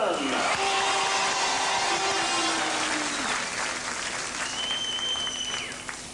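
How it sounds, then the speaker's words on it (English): Large crowd at a speedway event applauding and cheering loudly for a Danish rider as he is introduced, a dense sustained wash of clapping with whistles and whoops that gradually fades. "Give him a nice big cheer, John Jorgensen."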